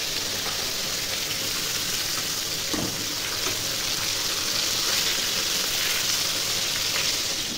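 Hot cooking oil sizzles steadily in a pan in a home kitchen, a dense continuous hiss holding an even level throughout with no voices.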